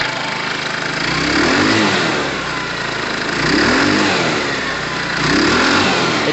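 A small air-cooled Tamoretti retro scooter engine runs steadily, rising and falling in a few slow revs, loud and close with no talking.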